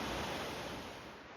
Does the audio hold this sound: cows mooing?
no